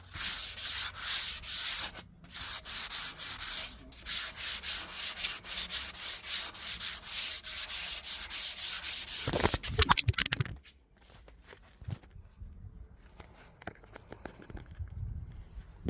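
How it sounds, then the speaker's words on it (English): An epoxy resin restoration piece is hand-sanded with 180 grit sandpaper in rapid, rhythmic back-and-forth strokes, close and loud, with a brief pause near the start. After about ten seconds the sanding stops, leaving quieter handling noises and knocks. "Then I'm gonna sand it with a 180 grit, just slightly, just to smoothen it out a little."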